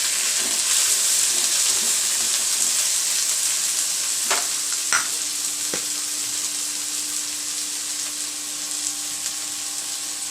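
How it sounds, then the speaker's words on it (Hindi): Steady, loud sizzling and frying of onion and tomato for masala bhindi fill the clip, with a few brief stirring clinks partway through; no one speaks. "और हम इसे अच्छे से भून लेंगे"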